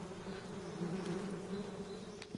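Steady insect buzzing of bees in the stealth video game Metal Gear Delta, a continuous droning hum held at even loudness throughout, with no voices over it.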